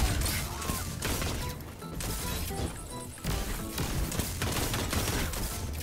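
Gunfire in a Destiny Trials match: a dense, loud burst of cracking shots, impacts and crashes in rapid succession, with brief sharp blasts layered over game effects.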